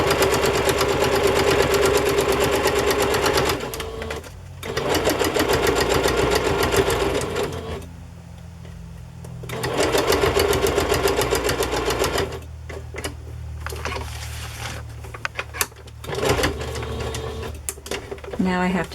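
Sewing machine stitching ribbon onto a fabric placemat, running in several long steady bursts with brief pauses between, loud and close, with faint handling noises in the gaps.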